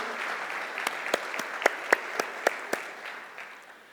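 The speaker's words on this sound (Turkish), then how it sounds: "I think you deserve a round of applause." Scattered audience applause with a handful of distinct sharp claps standing out over a soft patter, fading away toward the end.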